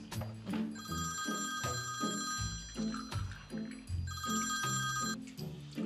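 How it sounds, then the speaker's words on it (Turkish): A telephone bell rings in two long trilling bursts indoors, set against soft background clatter and shuffling, with no speech. "Kapat o telefonu baba."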